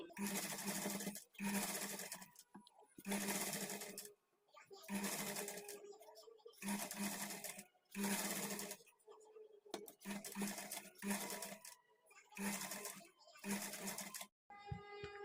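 A sewing machine stitches a hemming strip onto a blouse neck in repeated bursts of rapid whirring, each a second or two long and separated by short pauses, close and loud.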